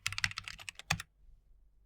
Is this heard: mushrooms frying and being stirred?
no